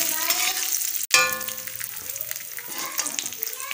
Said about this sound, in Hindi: जब हमारे काजू और बादाम हल्के रोस्ट हो जाएंगे उस समय हम इसमें किशमिश ऐड कर देंगे।